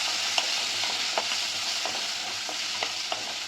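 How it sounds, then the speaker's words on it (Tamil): Garlic, small onions and curry leaves fry together in a pan for a South Indian pepper gravy, giving a steady, close hiss of sizzling oil with occasional soft clinks of stirring and no voices. "இந்த வெங்காயம் பூண்டு நல்லா வதங்கிடுச்சு"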